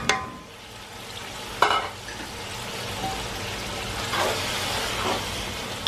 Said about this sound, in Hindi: अब ये टमाटर भी डाल देते हैं इसके साथ।